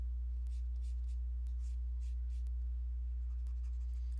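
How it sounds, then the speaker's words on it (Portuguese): Pencil sketching strokes on paper while drawing an arc for a figure's arm, soft scratchy scrapes in short repeated bursts over a constant low electrical hum. "para eu conseguir desenhar essa rotação, eu traço um arco"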